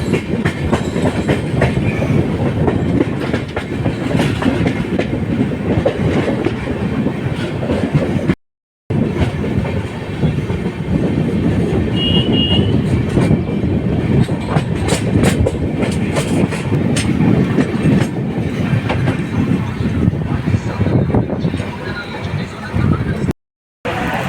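A passenger train runs on rails during the Vizag to New Delhi journey, a steady loud rumble with rhythmic clickety-clack of wheels, interrupted by two brief cuts to silence.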